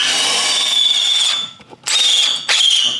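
A power drill whines at high pitch with a hole saw grinding, stopping briefly twice and restarting in short bursts, close and loud.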